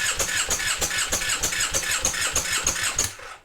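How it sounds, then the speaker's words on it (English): A Triumph Bonneville engine cranks on its starter motor at wide open throttle, a rapid rhythmic chugging of about a dozen compression pulses over three seconds, close and loud, then cutting off. "I'm going to fully crank on the start motor"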